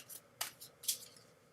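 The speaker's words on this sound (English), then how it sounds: "let's shuffle the deck" A deck of tarot cards being shuffled in short, crisp riffles, with three quick papery bursts over a quiet background, close and soft.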